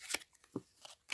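Playing cards handled during a close-up card trick, giving a few short crisp riffling bursts close by with brief pauses between them.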